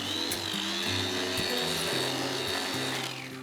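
A blender grinds Nestle corn flakes into a fine powder, a loud, steady whirring motor with shifting pitch that runs without a break and eases off slightly at the end.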